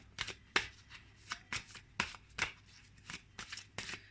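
Oracle cards being shuffled by hand in quick riffling bursts, about a dozen crisp close flutters in a quiet room.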